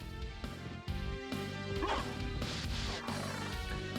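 A wolf enemy in the video game Castlevania: Symphony of the Night gives a few sharp, yapping barks over a dense, continuous game soundtrack.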